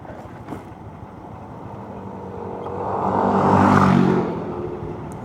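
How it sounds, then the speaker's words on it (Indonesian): Motorcycle with a noisy gearbox while riding solo slowing into a village, steady engine drone and road noise that swells into a louder whirring rumble near the end, no talking. "bunyi gearbox saya berisik banget ya."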